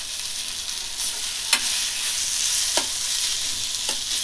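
Bitter gourd (kakarakaya) fry cooking in a pan, giving a constant close sizzle with a few brief stirring scrapes and taps, no voices present.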